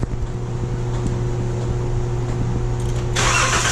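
A 2012 Chrysler minivan with a bad fuel pump relay runs with a steady mid-pitched engine hum and an electric pump whine, ending in a louder hissing burst, with no talk.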